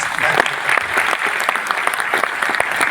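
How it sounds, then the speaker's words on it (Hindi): Vigorous applause from an audience at a Buddhist program in Ghalib Auditorium, New Delhi, dense, close clapping that continues evenly throughout. "एक बार जोरदार ताली बजाए"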